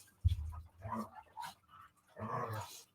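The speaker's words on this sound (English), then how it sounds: "dogs" Dogs bark and whimper close by in a few quick bursts, mixing rough low barks with higher whining cries over a few seconds.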